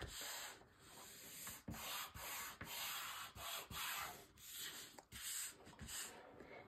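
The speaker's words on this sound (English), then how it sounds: "We're massaging that cardstock." Fingers rub and massage cardstock in a steady, close, sanding-like swish. The strokes are repeated with brief pauses between them, quiet and without speech.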